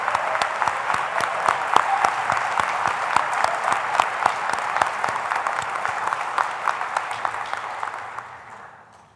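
Graduation audience at a community college applauding the staff members, sustained steady clapping from a large crowd that fades away at the end.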